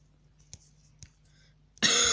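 A single short cough close to the mic near the end, preceded by faint clicks in an otherwise quiet room during work on a mechanical automatic fireplace decoration.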